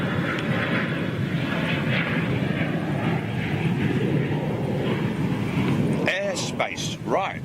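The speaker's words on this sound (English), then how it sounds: "That A330neo, possibly used for new cabin" An Airbus A330neo roars steadily in the distance near Toulouse, a broad continuous jet rumble with wind buffeting, while voices talk over it toward the end.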